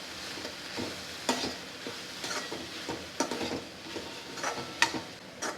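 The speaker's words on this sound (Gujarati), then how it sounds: "ચાટ મસાલો ગરમ મસાલો આ બધાને મિક્સ કરી લઈશું" Chaat masala and garam masala stirred into sprouted moong and moth bean mixture in a hot pan, a steady sizzle under repeated scraping strokes of the spoon, close by with no talking.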